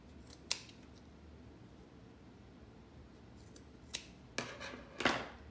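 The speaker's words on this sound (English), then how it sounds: "then I'm gonna cut this off" Scissors snip off a tie on a painted farmhouse barrel, a sharp single cut near the start, then three more crisp snips close together toward the end, each brief and close over a quiet room.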